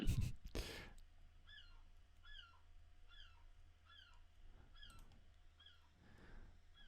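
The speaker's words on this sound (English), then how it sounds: "whether you can hear the seagulls in the background" Seagulls call faintly in the distance, a steady series of short repeated cries over a low background hum, with a brief louder noise at the very start.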